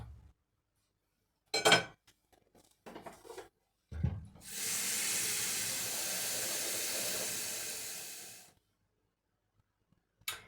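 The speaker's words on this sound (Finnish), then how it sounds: "Ja nyt kun se oli kuumaa vettä, niin se rupeaa heti kiehumaan." A pot of water with pepper, dill and onion for fish soup made from frozen saithe comes to a boil, giving a steady hissing rush for about four seconds. A few clinks and knocks come before it, and then it stops abruptly.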